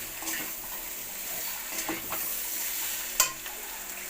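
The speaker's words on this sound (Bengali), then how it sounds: "নাড়াচাড়া করতে হবে, নাড়াচাড়া করতে হবে একটু ভালো করে" Potato pieces and soybean chunks frying in a pan while being stirred: a continuous close sizzle with soft spatula scrapes and a brief sharp clink partway through, no talking.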